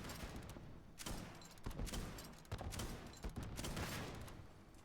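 A Hydra micro missile launcher from a Halo weapons mod firing in Starfield, a rapid series of sharp launch bursts with thumping impacts, several shots in quick succession, moderately loud and without talk.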